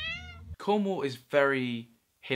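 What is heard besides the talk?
cat meowing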